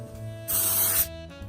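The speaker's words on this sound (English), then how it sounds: "go ahead and spray your sheet very lightly" A short, close hiss of cooking spray misted lightly over a baking sheet lasts about half a second, then a faint second puff follows.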